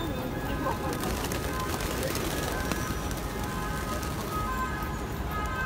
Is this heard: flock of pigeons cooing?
yes